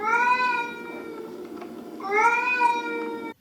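Two drawn-out, tonal meows imitated by a voice for Peppa dressed in a witch's cat costume, the first stretching over a second and a half, the second after a short pause, both loud and close.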